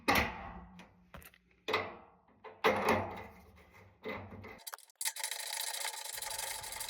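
A radiator valve tail is tightened by hand on a radiator lifted onto existing valves of a combi boiler system, giving a few separate rubbing, scraping metal-and-wood handling sounds in short bursts, then a steady hiss.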